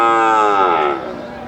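A native cow moos once, a long loud harmonic bellow close by at a cattle market, fading toward the end.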